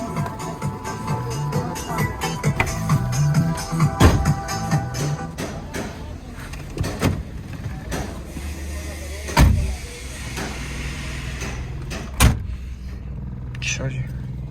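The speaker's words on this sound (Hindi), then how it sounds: "बंद करो गाड़ी।" A modified Suzuki Alto 660cc automatic is being switched off: a steady idling engine hum with clicks and a few sharp knocks, then the running sound fades. Voices speak nearby.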